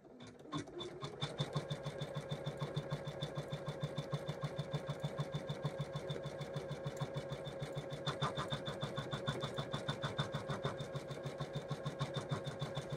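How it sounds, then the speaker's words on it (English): An embroidery machine stitches a Christmas stocking pattern in the hoop, its needle hammering in a fast, even, unbroken rhythm, close and steady from start to finish. "I'm going to set the machine to start, and it's going to stitch out that pattern of the sock"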